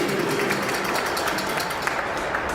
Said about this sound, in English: Fans getting an applause.